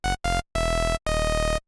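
Two saw waves on a Massive synth, the second oscillator raised four octaves, play four bright buzzy sustained notes, two short then two longer, each starting and stopping cleanly with silence between.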